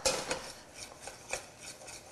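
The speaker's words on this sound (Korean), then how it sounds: "불이 너무 세실 경우, 셀 경우에는 불 없는 데서 이렇게 저어주시게 되면 거품이 생기면서" Soup stock stirred in a pot off the heat, a spoon scraping and clinking against the metal in a few separate strokes, near and fairly quiet, with no talking.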